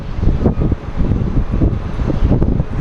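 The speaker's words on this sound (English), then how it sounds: "you can see it is windy. It is shaking my tripod." Heavy wind buffeting an outdoor microphone at an airport plane-spotting spot, a loud continuous low rumble with gusty surges and no voices.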